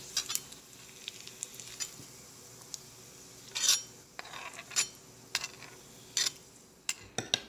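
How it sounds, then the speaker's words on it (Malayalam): Green chilies, onion and curry leaves fry in hot oil with a soft, steady sizzle, broken by scattered clinks and scrapes of a spoon stirring against the pan. "അപ്പോൾ ആ പച്ചമുളകും ഉള്ളിയും കൂടെ നമ്മൾ മൂപ്പിച്ചെടുക്കുവാണ്"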